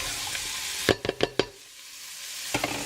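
Celery and garlic sauté in a pot of detox soup, with a broad close sizzle broken by a quick run of clacking stirs partway through, followed by a brief quieter stretch and then a couple more knocks.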